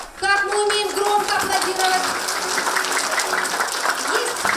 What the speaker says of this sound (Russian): Приготовить ладошки для аплодисментов!